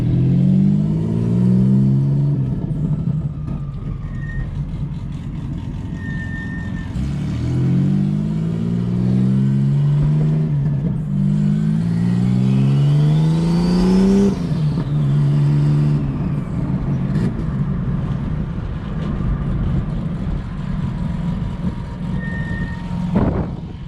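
Turbocharged Nissan Altima with a hood exit exhaust revving repeatedly while out running errands, each rev climbing in pitch before dropping back, with a steady engine drone and a couple of faint high beeps between pulls.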